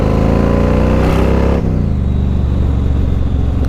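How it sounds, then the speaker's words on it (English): A loud Yamaha Road Star 1700cc cruiser motorcycle engine drones steadily, then its exhaust note shifts and drops partway through as it passes another vehicle close by. "That noise you heard was just me passing that other vehicle."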